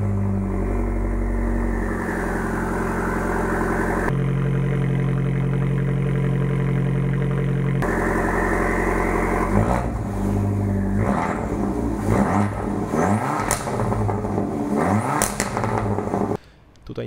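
Three-cylinder engine of a Renault Twingo GT revving in bursts, a steady drone stepping up and down through several blips, then a series of quick rises and falls before cutting off near the end.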